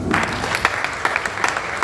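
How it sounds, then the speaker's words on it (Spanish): A church congregation gives applause during a sermon, a short burst of many hands clapping with distinct uneven claps poking through, fairly close and loud. "Dale un aplauso al Señor, hermanos."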